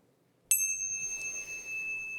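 One bright bell ding rings out suddenly after a brief silence, then hangs in a long, clear, shimmering decay with nothing else heard.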